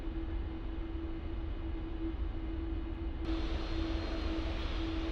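Boeing 747-400 engines in Flight Simulator X hum at the end of the runway with a steady droning tone over a broad rush, continuous and moderately loud, growing brighter and fuller partway through.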